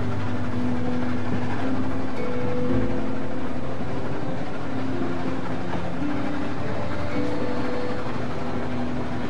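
Low, steady rumble of a train rolling along in The Walking Dead video game, droning continuously with faint mechanical hum and no voices.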